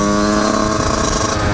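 A Husqvarna 125 CR motard motorcycle engine runs steadily and loudly up close, a buzzing two-stroke note holding constant throughout.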